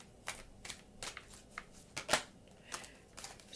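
Tarot cards being shuffled by hand, a string of soft, quick riffling bursts about every half second, close and fairly quiet with no talking.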